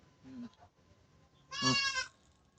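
A bloated goat bleats twice, a short faint call followed by a louder, wavering bleat a moment later.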